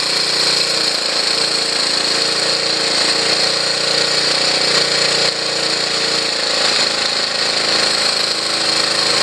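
Honda CT110 motorcycle engine idling loud and close as the idle speed is wound down, a steady rapid buzzing drone with a faint shift in pitch partway through.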